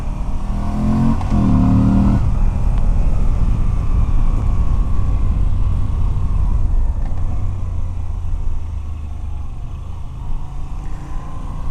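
A 2019 Moto Guzzi V85TT with a longitudinally mounted 90-degree V-twin and shaft drive rumbles loudly and steadily while riding on an open road, with a brief revving rise near the start and constant wind-buffeted engine drone throughout.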